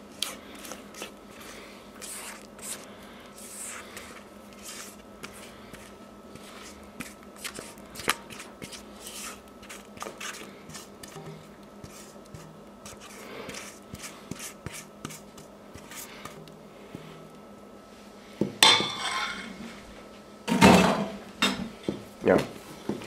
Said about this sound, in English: just take your batter, scrape it out over the egg whites